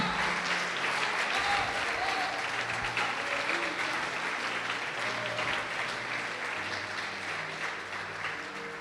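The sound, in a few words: audience applause in church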